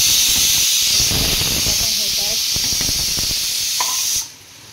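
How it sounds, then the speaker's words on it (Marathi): A pressure cooker with rice and dal lets out a loud, continuous hiss of escaping steam for about four seconds before it cuts off, while a voice speaks underneath. "कुकरला लावला आहे भात आणि डाळ शिजायला."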